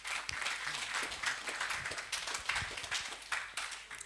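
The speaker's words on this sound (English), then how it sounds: "A round of applause to them, please." Audience at a program partners panel on opportunities for young women gives a round of applause, fairly faint and steady clapping from a room-sized crowd with scattered sharper claps.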